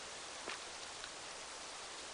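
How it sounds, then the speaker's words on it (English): Heavy rain in the video game Rising World makes a steady, dense hiss that stays unbroken, with only a couple of faint brief ticks and no talk. "Wow, this rain is something else. It's like super heavy."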